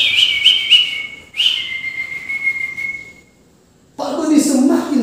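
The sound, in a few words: whistling imitating birdsong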